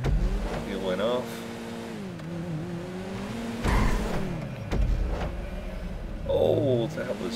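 Video game car drifting around a corner, its close engine drone rising and falling in pitch with brief revving surges as someone talks over it.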